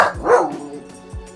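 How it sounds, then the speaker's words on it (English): A pet dog barks indoors: one sharp, loud bark near the start, then a second shorter bark about a second later, both close by with quiet between them. "My dog is having a fit."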